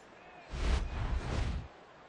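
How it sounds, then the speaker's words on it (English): A baseball stadium crowd in a game between Seattle and Toronto responds to a diving play, a brief distant swell of applause and crowd noise rising and fading within about a second. "He'll receive a nice round of applause anyway."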